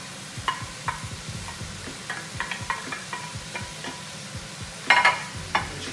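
Onions and green peppers sizzle in a pan of seasoned meat as a spoon stirs and scrapes, soft frying under irregular clicks and knocks, with a louder clatter near the end.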